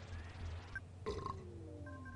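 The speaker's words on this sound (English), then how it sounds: "A big old burp." A game character's belch from the video game Earthbound, a single gurgling burp swelling up about midway through, loud and close over steady game music.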